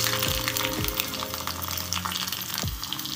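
Garlic fries in hot oil for a sambar tempering, a steady close sizzle with a few soft knocks and stirring sounds, no voices.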